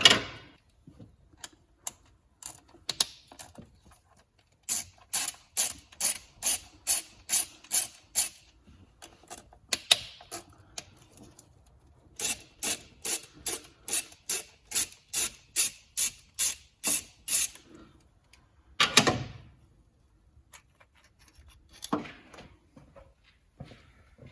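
Carburettor bolts being undone on a 1988 Volkswagen Polo MK2 breadvan with a ratchet, giving repeated bursts of quick, close metallic clicks separated by pauses, with a few clunks and no talk.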